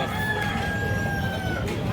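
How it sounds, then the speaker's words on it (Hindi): A rooster crows in one long drawn-out call over a busy, noisy background of low rumble and chatter at a tribal market in Chhura, Gariyaband, Chhattisgarh. "अभी है एक मुर्गा"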